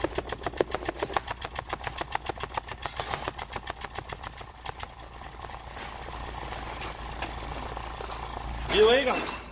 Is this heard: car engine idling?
yes